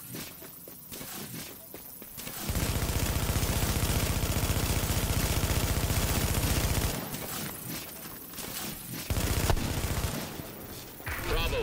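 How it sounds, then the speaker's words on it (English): Gunfire on a fortification in The Division, a dense sustained burst of rapid shots that rumbles on for several seconds, then breaks into scattered shots and clatter, with a voice speaking in between. "Hostiles are firing on a fortification."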